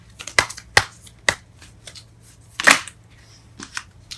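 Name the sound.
tarot cards being shuffled and drawn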